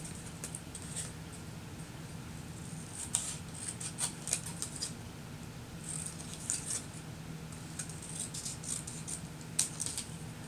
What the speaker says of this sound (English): these bigger scissors, for cutting these nice straight edges on this A